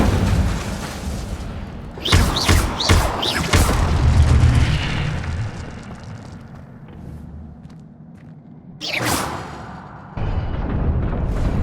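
A fire spell cast in Hogwarts Legacy lets out loud booming bursts, a quick cluster of blasts followed by a fading roar, then another sharp burst later, with no talking.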